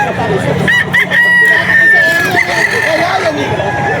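A pumpkin sweater gamefowl rooster at a Bocaue market crows nearby with a long, bright call, surrounded by clucking, while people talk in the background.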